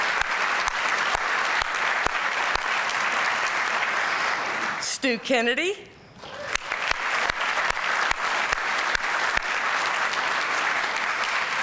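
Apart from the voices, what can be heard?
audience applause for Ambassador Ridgway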